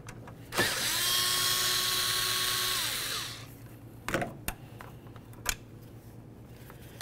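A power tool spins out an 8 mm bolt holding the power steering reservoir on a 2006-10 Ford Explorer, one loud, close, sustained whir of about three seconds winding down, followed by a few sharp metallic clinks.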